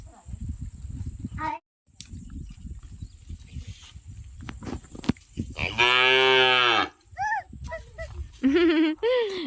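A young calf moos loudly several times near the microphone in a village livestock pen, calling out in long drawn bellows separated by pauses, while a person talks quietly at the start.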